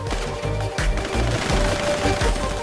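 Rapid bursts of cartoon gunfire crack through a fight scene, with repeated loud volleys and booming impacts packed close together, with no talk in between.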